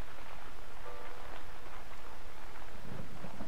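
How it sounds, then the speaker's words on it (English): Rain falls steadily as a dense, constant hiss in the survival game Cradle, fairly loud and unbroken, with a faint low rumble beneath it. "Oh, and it's raining."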